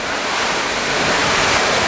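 Strong summer storm wind roars around a house, a dense, unbroken rush of noise that swells slightly across the stretch, with no voices.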